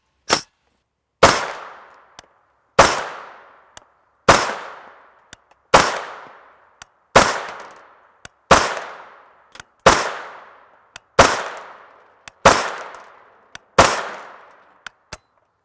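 An FN GUNR rifle fitted with a suppressor fires 5.7x28mm SS201 40-grain FMJ rounds, sharp loud single shots at a steady pace of about one every one and a half seconds, each with a short decaying tail and faint clinks between.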